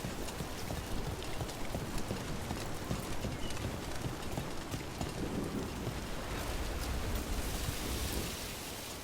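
Steady heavy rain pours across the whole span with deep rumbling thunder underneath in a stormy Dragon Age The Veilguard game scene, loud and constant with no talking.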